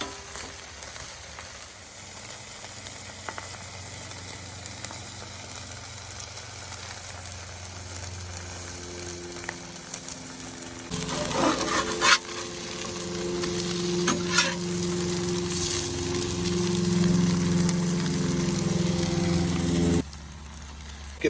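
Jalapenos sizzle and roast in a pan with a steady frying hiss that grows louder partway through, broken by occasional utensil scrapes and a low background hum.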